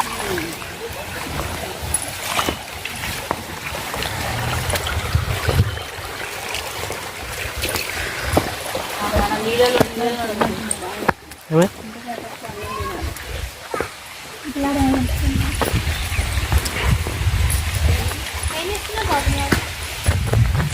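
A stream of small waterfalls near the Sri Ishta Kameswari Devi temple at Srisailam rushes steadily as a low, broad roar, fading briefly midway then returning, while people talk over it throughout.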